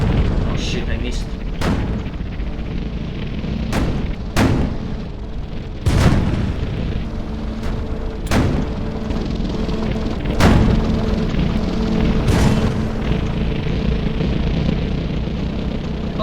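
Tank cannon shots and explosions in a tank video game boom repeatedly at irregular intervals over a rumbling engine bed, loud and close, with someone talking in between.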